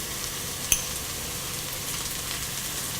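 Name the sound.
sautéing onion, green chili, curry leaves, garlic and ginger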